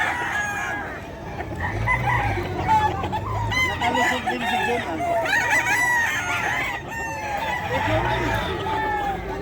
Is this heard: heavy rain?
no